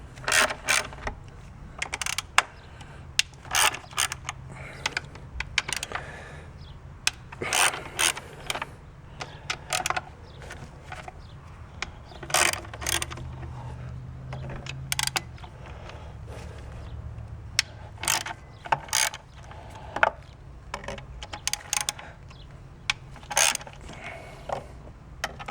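Ratchet on an extension loosening 8mm plenum bolts on a 2004 Mazda 6, with repeated short clicking bursts and metallic ticks in uneven spurts, close and fairly quiet, without speech.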